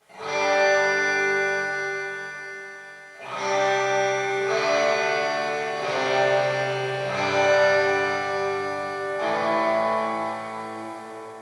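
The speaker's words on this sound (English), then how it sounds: "A nice reverb, here it is by itself." Electric guitar chords ring out through a Sonicake Pocketmaster reverb effect, each strum followed by a long, bright wash of reverb tail, played alone with no talking.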